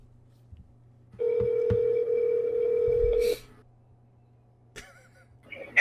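Telephone ringback tone during an unanswered call, one steady sustained tone lasting about two seconds, then quiet line noise with brief clicks.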